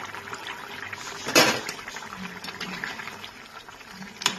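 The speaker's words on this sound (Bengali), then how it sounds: "ঝোলটা ফুটে গেছে" Fish-head gravy for pumpkin ghonto simmers in a pot, giving a soft, steady bubbling with a brief louder gurgle or clink near the start and another at the end, heard alone without talk.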